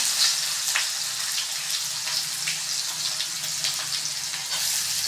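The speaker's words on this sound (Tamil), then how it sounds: "இப்போ நம்ம கட் பண்ணி வச்சுருந்த வெங்காயத்தை போட்டுக்கலாம்." Chopped onions go into hot oil with popping mustard seeds for a broad beans poriyal and fry with a close, steady, dense sizzle that carries on without a break, with scattered small crackles.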